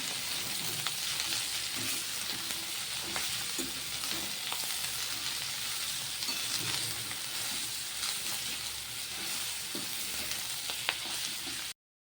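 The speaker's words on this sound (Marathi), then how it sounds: "ही कापलेली मेथी आता यामध्ये घालून घेऊया। व्यवस्थित मिक्स करून घेऊया।" Chopped fenugreek leaves stir-fried in a hot pan for methi bhaji, a steady, even sizzle with occasional faint stirring scrapes, close and continuous, with no talking.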